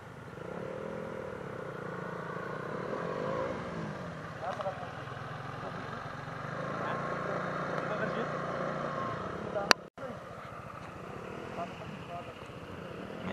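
Motorcycles ride through Kaybiang Tunnel with a steady engine drone that echoes in the enclosed space, rising and falling as bikes pass. A sharp clatter comes near the end, and voices talk over the engine noise.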